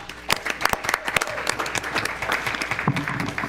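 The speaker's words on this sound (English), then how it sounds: "Can we give her a round of applause?" Applause at a school board meeting, with scattered individual claps standing out near the start before it settles into a moderate, uneven round from a modest crowd.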